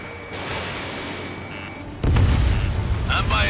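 In a jet combat video game, a steady jet engine drone gives way to a sudden heavy boom and a rumbling blast that stays loud, with thin sweeping tones near the end and radio voices over it.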